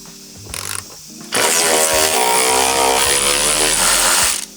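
Wrench or ratchet working on the cross-brace nuts and bolts of a Porsche 996, 15 mm fasteners, during clutch and flywheel replacement: a brief burst, a pause, then a sustained loud, close grinding mechanical whir with no talking.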